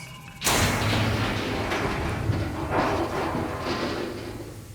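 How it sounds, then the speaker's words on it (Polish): Explosion in the horror video game Alone in the Dark: a sudden loud blast erupts after a short quiet moment, followed by several seconds of dense rumbling debris and echoing crashes. "Coś wybuchło"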